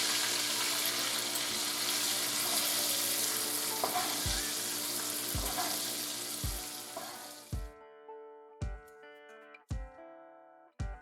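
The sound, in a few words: venison tenderloin sizzling in pan while basted with butter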